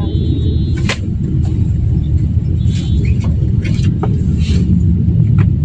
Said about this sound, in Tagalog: tignan nyo yung traffic